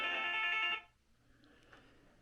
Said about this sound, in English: What a time for a phone call.